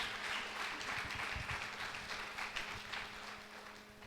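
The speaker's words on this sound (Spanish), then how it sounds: "Vamos a dar una ofrenda" A church congregation claps as an offering during a service, a moderate spread of applause from many hands that carries on steadily at a fair distance, with a faint hum beneath.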